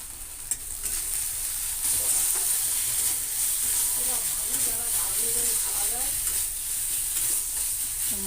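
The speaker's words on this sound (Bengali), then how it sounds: "মশলাটা আমি একটু কষিয়ে নেব।" Masala with salt and a little turmeric sizzles and fries in a pan while being stirred, a steady close hiss with soft scraping throughout.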